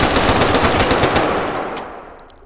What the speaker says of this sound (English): This one's a little M16. With ever so a lot of recoil.